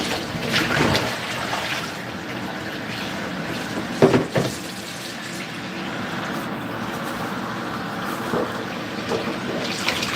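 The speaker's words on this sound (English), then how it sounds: "So next is wash up some frying pans." Water runs from a tap while frying pans are washed up, a continuous splashing rush with a few louder clatters and splashes scattered through, no voices.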